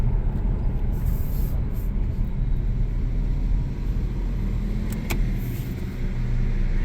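A GMC Canyon pickup's engine idling smoothly after a misfire repair, a steady low rumble with no stumbles, heard up close and alone throughout.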